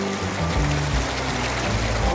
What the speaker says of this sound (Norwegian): Det var en bekkepalling.